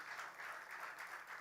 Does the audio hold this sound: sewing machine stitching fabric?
no